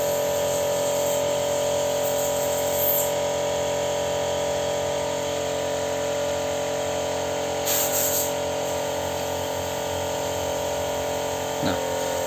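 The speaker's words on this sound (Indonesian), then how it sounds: "Ya, kita semprot aja pakai kompresor." An air compressor blows a continuous loud hiss into the oil filler hole of a Suzuki Carry Futura engine during an oil change, steady throughout with a constant motor hum beneath.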